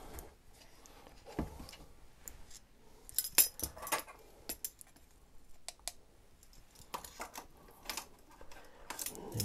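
Metal measuring teaspoons clink and tap softly against each other and a container while sodium sulfite is measured out, a quiet series of irregular light clicks and jangles close by.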